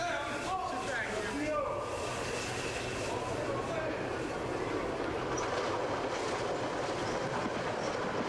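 A train rolls steadily past with continuous rumble, rhythmic wheel clatter and a brief squeal of metal near the start, loud and sustained throughout.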